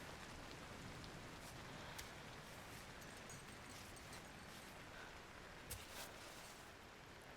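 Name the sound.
rain falling in the video game Cairn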